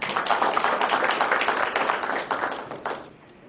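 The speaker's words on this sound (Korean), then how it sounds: "오늘 강의를 위하여 귀한 시간을 내주신 이경혜 위원님을 큰 박수로 맞이해 주시기 바랍니다." Audience at a city council orientation lecture claps to welcome the speaker, a lively roomful of hands clapping steadily before fading out abruptly near the end.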